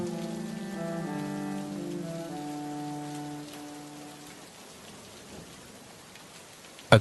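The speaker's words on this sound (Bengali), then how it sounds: "বাইরে যা বৃষ্টি হচ্ছে" Heavy rain falling in a cartoon scene, a steady wash of downpour that starts under sustained musical tones and then continues alone, fading slightly before a sharp knock at the very end.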